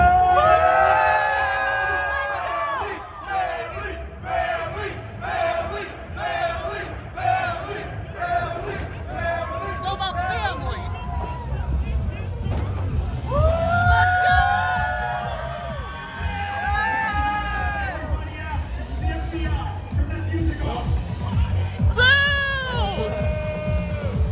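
Lively party crowd at the Fast & Furious: Supercharged ride at Universal Studios Hollywood, a loud steady babble of many voices with shouts and cheers rising throughout, music-like tones woven in.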